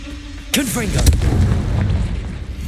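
A Confringo blasting spell bursts in the Hogwarts Legacy video game: a sharp, loud explosive crack followed by a second blast about half a second later, with rumbling debris and game ambience trailing after.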